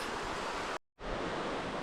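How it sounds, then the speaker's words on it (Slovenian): The river flows beside a hiking path in the Iški vintgar gorge in Slovenia, making a steady close rushing hiss of water, cut by a brief moment of silence before resuming. "Zdaj smo prišli čist ob reko in je prijetno hladno"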